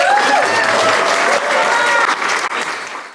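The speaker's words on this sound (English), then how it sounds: "let's just give Priscilla another round of applause" A ceremony audience gives an award recipient a sustained round of applause, with dense, loud clapping that fills the room and eases off slightly toward the end.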